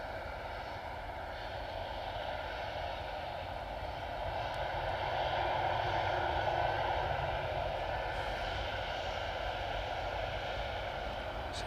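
A 37-year-old Jet2 Boeing 757 on its final arrival roars steadily overhead, its engine noise swelling slightly at mid-pass before easing, heard continuously from a distance without talk.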